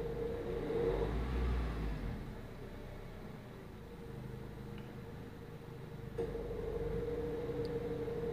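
Honda Civic FD engine with a misfire revved in short blips, a close, muffled idle hum that rises and falls with an uneven note.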